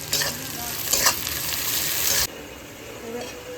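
Loud, dense sizzling of food frying in a pan with a little salt added, cutting off abruptly, leaving a quieter hiss afterward.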